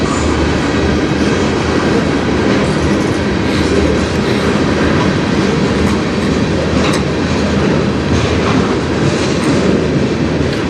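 A CN freight train rolls past on the Strathroy Subdivision, loud and close, with a continuous rumble and clickety-clack of wheels over rail joints and brief squeals sustained throughout.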